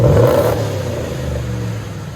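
A procharged RAM 1500 pickup with a 5.7L HEMI V8 and Magnaflow glass pack mufflers, a loud close rev that peaks at the start and then settles into a deep, rumbling idle.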